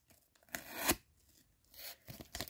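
Packing tape rasps loudly as it is pulled off the roll and torn during the packing of a trading card mail package. Several short ripping bursts, close by, come between pauses with no talking.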